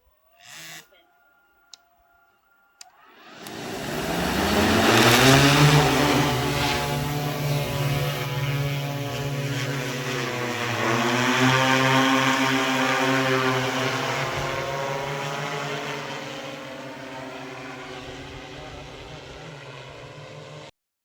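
An agricultural spraying drone's motors spin up over a sugarcane field and hold a loud, steady buzzing whine nearby, rising and falling slightly in pitch for most of the stretch.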